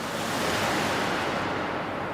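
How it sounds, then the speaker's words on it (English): An ocean wave crash used as a sound effect in a song, a dense, loud wash of surf noise that sustains and slowly thins out, with no talking. "And as well as this ocean crash"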